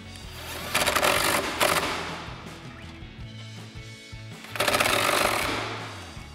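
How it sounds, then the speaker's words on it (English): An impact wrench with a 16 mm socket tightens a bolt on a Jeep Wrangler JL spare tire carrier, firing two loud, rapid hammering bursts separated by a quieter pause with faint clanks. "Now we can go ahead and tighten down our bottom bolt using our 16 mil socket on our impact."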